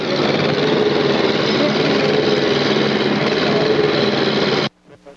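A railroad tie planing machine smooths the surface of wooden ties for new plates, giving a loud, steady mechanical drone that runs without a break and then cuts off abruptly near the end.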